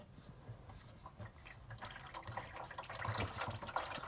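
Transmission fluid draining from the pan of a Ford F150 during a fluid change, a steady splattering pour that grows louder and heavier toward the end, close and without talk.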